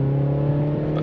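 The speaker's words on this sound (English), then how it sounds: "as you can see, just raise the revs." A BMW engine in sport transmission mode holds raised revs, a loud, steady, close engine hum with a strong low tone lasting about a second.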